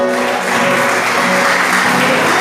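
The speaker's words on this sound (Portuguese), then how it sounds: "Pode aplaudir o Senhor." A church congregation applauding during a sermon, loud dense clapping blended with music or voices, steady throughout.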